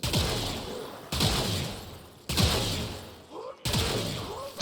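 Repeated bursts of weapon fire hit enemies in the sci-fi shooter Warframe, four loud sharp volleys spaced about a second apart with rumbling tails, close and with no speech over them.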